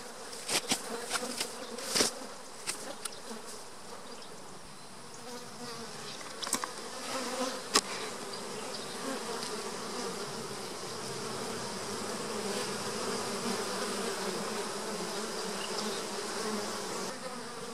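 Honey bees swarm around a hive troubled by small hive beetles, producing a steady, close, continuous buzz with a few brief handling clicks and knocks early on.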